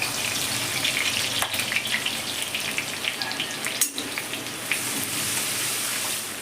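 Mustard seeds and garlic frying in hot oil, a dense crackling sizzle with rapid popping like rain, loud and continuous with brief clatters of a spoon.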